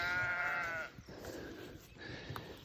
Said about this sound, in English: Sheep are getting excited.